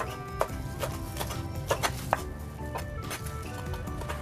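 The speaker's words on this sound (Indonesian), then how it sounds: "saya tambahkan 2 pohon daun bawang. Jangan lupa dicuci bersih, dan ini saya potong-potong kecil-kecil aja seperti ini" Spring onions being chopped into small pieces on a board in a home kitchen, with a steady run of close knife taps over faint background hum.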